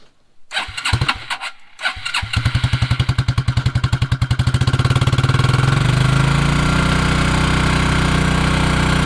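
A Suzuki King Quad 300 ATV fitted with a Chinese carburetor cranks over with a few sputtering pulses, catches, and settles into a steady, loud, close idle that grows smoother and fuller.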